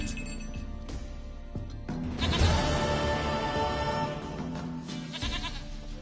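A goat bleats in The Witcher 3: Wild Hunt, a few wavering calls over a quiet game backdrop with faint clinking, the loudest bleat landing near the middle.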